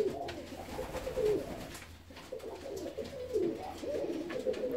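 Fancy ornamental pigeons coo steadily in soft, repeated low rolling phrases, with several birds overlapping close by against a quiet background.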